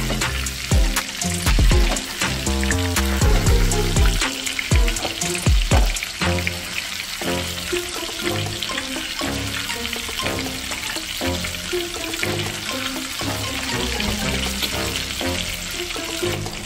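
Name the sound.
chicken popcorn deep frying in oil, stirred with spoon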